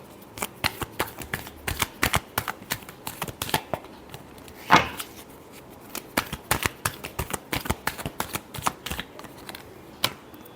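Tarot cards being shuffled by hand during a love reading, close and crisp: a steady run of quick riffling flicks and snaps, with one louder slap midway, no talking.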